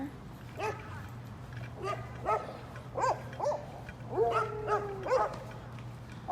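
Several dogs bark and yip in short bursts over a steady low hum, some barks closer and louder than others, scattered irregularly throughout.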